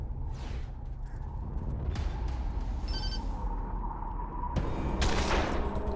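Gunfire in the turn-based video game Wasteland 2, a few sharp shots over a dense, noisy game soundscape with a louder burst near the end.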